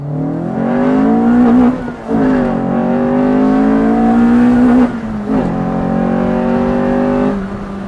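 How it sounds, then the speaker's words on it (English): An EF Honda Civic with a B17 engine swap accelerates hard into VTEC, its engine note climbing loud and close through repeated rising pulls, with brief dips at each gear change. "let's hit VTEC one more time and head back"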